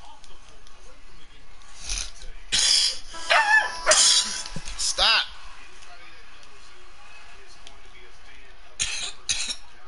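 A dog barks in a home with a television on, sharp barks and yips in bursts amid loud, agitated talking, then quieter stretches with a few more barks near the end.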